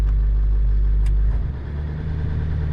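Diesel 7.3 dually truck engine idling loudly with a heavy low rumble, then the RPM jumps up as a high-idle setting kicks in, the tone shifting partway through; no talk.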